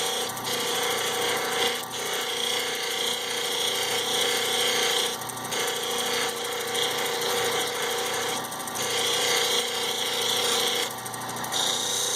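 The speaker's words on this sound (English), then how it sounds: "Still pushing pretty hard on the grinding wheel here." A grinding wheel shapes a Mexican opal stone under hard pressure, a steady loud abrasive whine and hiss running continuously throughout with slight periodic dips in intensity.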